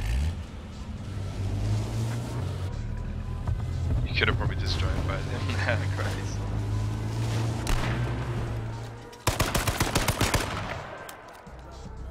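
Rapid bursts of gunfire from an AR-15 and a hunting rifle during a King of the Kill match in the video game H1Z1, a fast run of sharp shots near the end over steady engine-like rumble, with voices talking throughout.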